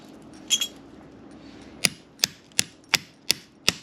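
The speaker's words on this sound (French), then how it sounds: "on va utiliser la massette" A mallet strikes battery cable lugs to crimp them onto a 12V LiFePO4 battery cable, giving one soft knock and then six sharp, evenly spaced metallic taps, close and loud over a low hum.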